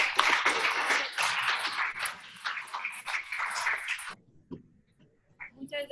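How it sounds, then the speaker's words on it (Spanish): A crowd of students at a school conference applauds, dense overlapping claps for about four seconds before dying away into near quiet with a few stray sounds. "Un aplauso, chicos"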